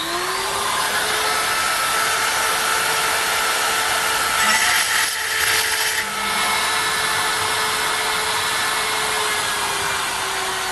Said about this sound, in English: before we put a burr in, we'll drill a hole so we can then open it up